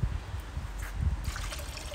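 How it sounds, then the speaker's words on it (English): Water pours steadily into a pot of venison stew with red wine, a soft continuous trickle and splash close by, with no voices. "And then I want to get some water in there to make it a stock."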